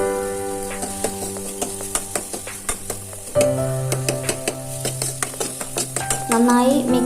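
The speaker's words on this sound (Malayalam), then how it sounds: "അതിനുശേഷം കറിവേപ്പിലയും കൂടി ഇട്ട് നന്നായി ഇളക്കിയെടുക്കാം" A spoon stirs mackerel curry in a pan after tomato and curry leaves go in, with a busy sizzle, repeated sharp clinks of metal against the pan and a tonal hum underneath.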